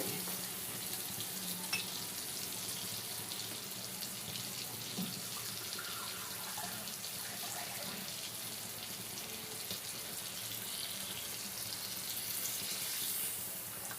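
Rice frying in a pan takes added water, giving a continuous hiss and bubbling sizzle with faint clinks, steady and moderately quiet throughout with no talk.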